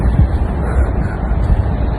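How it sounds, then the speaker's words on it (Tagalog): Steady wind rushing and buffeting against the microphone, a constant low roar throughout with no voices. "kasi mahangin"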